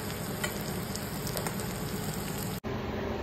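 Tomatoes with turmeric cooking in a pan for a Bengali prawn curry, giving a steady, even close sizzle and bubbling hiss that runs continuously with a few faint clicks.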